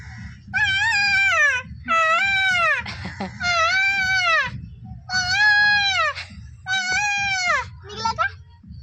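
A voice imitates a peacock's call: six loud, high, drawn-out wailing cries in quick succession, each bending in pitch, with brief pauses between.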